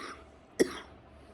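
A single sharp cough sounds close by in a quiet room, brief and isolated, with near silence before and after.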